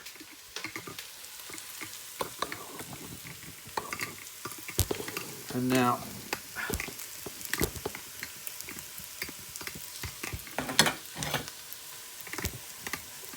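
Steady frying of onions in a Remoska pot, with stirring, scrapes and soft clatter against the pot, a brief spoken phrase near the start.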